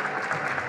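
Audience applause during a televised Argentine interview: dense, steady clapping from a crowd, fairly loud and continuous, with no talk over it.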